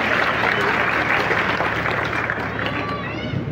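Loud, dense applause from a large crowd welcoming an Air Force wing commander at a Kalki Jayanti gathering, a continuous roar of clapping mixed with crowd noise that holds throughout.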